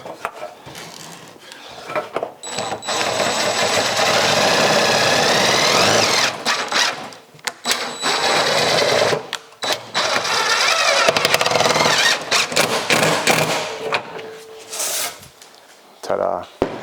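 Power drill driving a self-drilling, self-tapping screw into a 1974 Charger body while fitting scratch-built taillights: loud, sustained whirring bursts with brief pauses between them and a short final burst.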